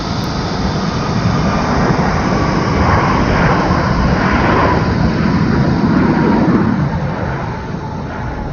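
A large jet airliner takes off from runway 15 right at Incheon Airport, a loud, continuous roar of engines that swells and holds steady before easing slightly toward the end.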